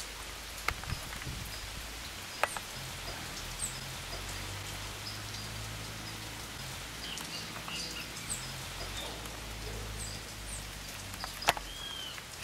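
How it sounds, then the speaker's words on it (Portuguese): Steady, constant rainfall with a dense hiss of drops on surfaces, occasional louder drips, and faint birds calling in the distance. "entrou uma pancada mais forte e agora tá essa chuva constante"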